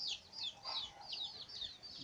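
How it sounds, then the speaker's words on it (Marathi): Free-range village chickens roaming outdoors in rural Ratnagiri give a quick run of faint, high clucks and peeps from some distance. "हे कोंबडी आहे. ही अशी कोंबडी आहेत ना बाहेर सोडलेलीच असतात."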